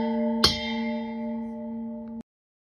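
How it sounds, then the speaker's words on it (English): Single strike of a church bell at St. Peter's United Church in Sudbury, rung during a Sunday worship service, sounding one clear bright tone whose long ringing sustain fades steadily until it is cut off abruptly. "May the sound of the bell remind us that the Spirit of God is within us and among us."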